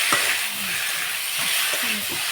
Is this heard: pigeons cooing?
no